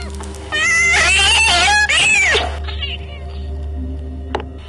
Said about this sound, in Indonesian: Lalu terdengar ada suara kucing kesakitan.